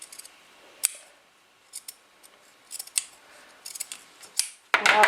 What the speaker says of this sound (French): Maintenant, je vais devoir couper un peu l'excédent de tissu ou de marge.